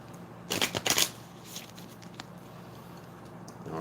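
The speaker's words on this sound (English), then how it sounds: "I'm gonna start shuffling the Witch's Oracle first." A Witch's Oracle card deck being shuffled by hand, with a loud riffling burst near the start followed by softer, scattered card taps and slides, close and with no talking.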